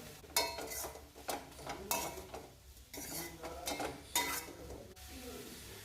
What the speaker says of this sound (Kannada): ಈಗ ತೆಂಗಿನ ತುರಿನ ಹಾಕ್ಕೊಂಡು ಫ್ರೈ ಮಾಡ್ಕೊಳ್ತಾ ಇದ್ದೀನಿ